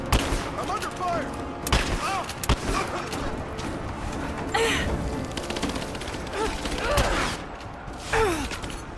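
Gunfire in Rise of the Tomb Raider crackles in rapid bursts and scattered shots amid game ambience and voices, loud and continuous with several sharper cracks standing out.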